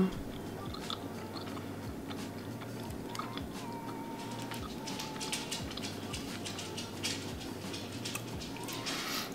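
Crunchy chocolate-coated raspberry protein bar with a cookie layer being chewed close up, steady soft crunching and mastication over several seconds with faint background noise.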